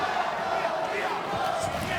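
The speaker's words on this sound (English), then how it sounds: "Sold out crowd chanting Puerto Rico." A sold-out boxing arena crowd chants for Puerto Rico at a homecoming title-fight card, a dense, steady roar of many voices filling the space throughout.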